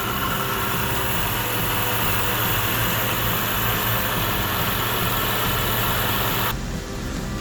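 A 2009 Jaguar XJ 4.2 SV8 Portfolio with about 107,000 km idles in its engine bay, a steady, close, even hum and whir that holds throughout before dropping slightly at the very end.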